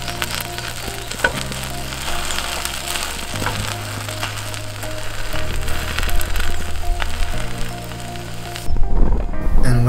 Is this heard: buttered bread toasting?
yes